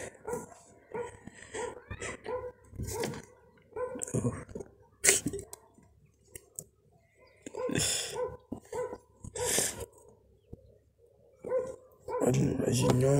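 Puppies up for adoption yip and bark in short bursts, close by, mixed with frequent talking and some whimpering.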